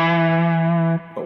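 A single sustained distorted electric guitar note rings loud and steady for about a second, without a grace-note slide, then cuts off abruptly with a brief scrape of string noise.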